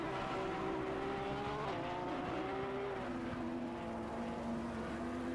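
GT3 race cars lapping Imola in a racing game, a steady loud engine drone with pitch shifting as the cars brake and accelerate through a turn.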